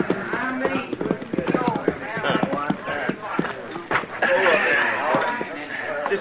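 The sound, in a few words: horse hooves clip-clopping, radio drama sound effect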